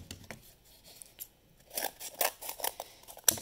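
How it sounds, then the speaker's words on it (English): Scissors snipping through scored cardboard, a handful of crisp cutting bursts that cluster toward the end, close and fairly loud with no talk. "If you always score first, a lot easier to cut the cardboard."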